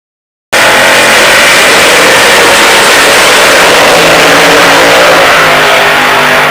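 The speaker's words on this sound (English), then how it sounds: "The 427 cubic inch V8 engine, officially rated at 435 horsepower, but known to push far beyond that." A 1967 Corvette Stingray's 427 cubic inch V8, rated at 435 horsepower, revs hard and loud right up close, a continuous raw roar that starts abruptly and holds at full intensity.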